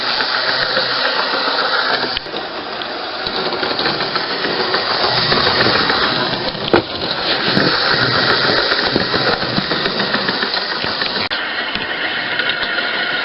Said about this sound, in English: You'll be able to hear that motor going.